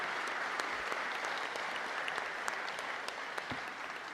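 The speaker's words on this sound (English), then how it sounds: "Let's give them a round of applause." Audience applause at a soccer team announcement press conference in St. Louis, a faint but steady wash of many hands clapping that holds at an even level throughout with no talk over it.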